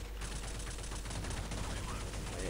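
Rapid M4A1 rifle fire in the shooter game Point Blank, a dense continuous burst of shots loud and close throughout, with no pause in the firing.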